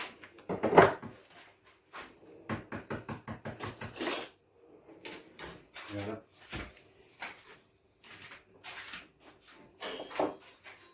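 Red bean paste cooked with oil is stirred in a pan until it thickens, giving close, rhythmic scrapes and knocks in uneven bursts, with a voice at times.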